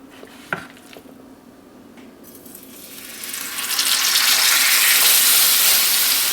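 Steaks hit a smoking red-hot skillet on an electric stove, a brief clatter as they drop in, then a loud hissing sizzle builds and holds steadily.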